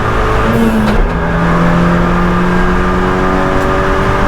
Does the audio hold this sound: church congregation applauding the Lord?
no